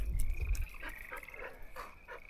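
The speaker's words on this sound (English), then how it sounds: "there's tons of frogs out in all the grass and stuff out there." Frogs croak in grass near a mountain creek at Fish Lake, Utah, a chorus of repeated rhythmic calls, close and fairly loud, after a brief low rumble at the start, with no voices.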